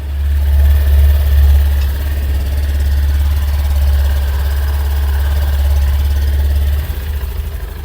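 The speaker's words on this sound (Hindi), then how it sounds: "अब इंजन की साउंड की परफॉर्मेंस भी आप सुन लीजिए, किस तरह से ये इंजन साइलेंटली स्टार्ट होता है" A 2024 Honda Activa 125 scooter engine idles with a steady, loud low rumble and faint vibration, easing off slightly near the end; no one speaks.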